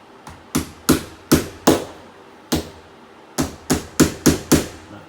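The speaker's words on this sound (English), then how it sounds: "I like to set it in place with the hammer." Hammer tapping a magnetic cabinet latch into place under a mobile home bathroom cabinet, about eleven sharp close knocks in two uneven bursts with a short pause between, no talking.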